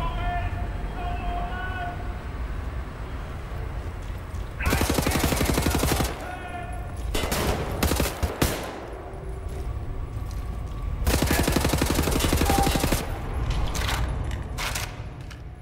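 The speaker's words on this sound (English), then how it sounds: "Now, have you seen this automatic gunshot?" Automatic gunfire from the Wolfenstein The New Order video game comes in three loud rapid bursts, each lasting one to two seconds, separated by quieter game sound. People talk in the background.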